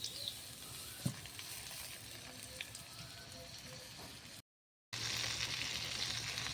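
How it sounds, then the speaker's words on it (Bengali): Marinated pointed gourd frying in a kadai, a steady crackling sizzle with a faint tap, briefly cut to silence before resuming louder. "পটলটা ভালোভাবে উল্টে পাল্টে ভেজে নেব"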